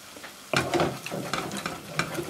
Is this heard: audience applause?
no